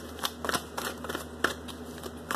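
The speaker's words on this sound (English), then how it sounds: "Another quick shuffle." Tarot cards are shuffled in a series of soft, quick riffling and tapping bursts, close and fairly quiet, with a low steady hum behind them.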